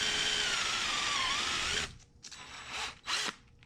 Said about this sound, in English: In the interest of avoiding any splitting, I pre-drilled every hole for the hinge.